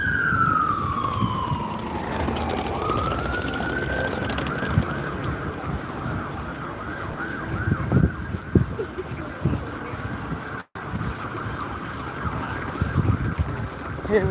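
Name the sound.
ambulance siren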